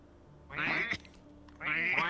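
Two voiced imitations of duck quacks from players in a virtual reality role-playing game, each a short nasal burst, the second following after a brief pause.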